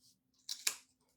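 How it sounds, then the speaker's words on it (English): Sharp scissors snip through thick twine in two quick, close, crisp cuts that follow each other, against an otherwise quiet room with a faint hum. "Cut right through this twine."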